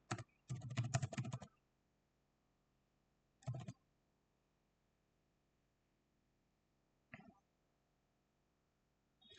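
Someone types code on a computer keyboard in a quiet room, with short bursts of rapid key clicks separated by pauses and a few isolated taps.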